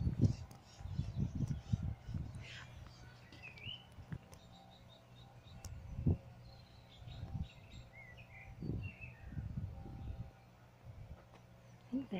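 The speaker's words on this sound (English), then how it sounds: "magpie. They're finches." Magpies and finches call in a park after rain, with scattered chirps and chatter heard at a distance over low rumbling footsteps or handling noise.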